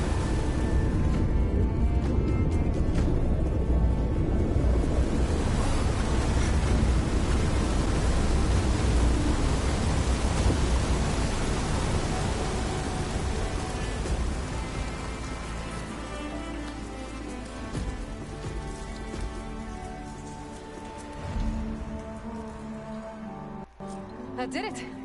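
In Horizon Forbidden West, water empties out of a flooded dome with a dense, rain-like rushing wash that holds strong at first, then gradually thins and fades toward the end.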